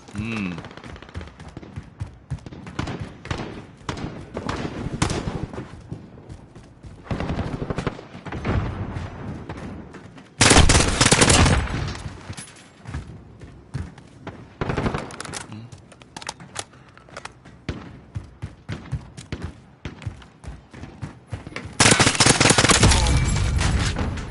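Rapid automatic gunfire from a weapon fired from the hip in the Modern Warfare video game, loud repeated bursts of varying length with brief gaps, under occasional talk.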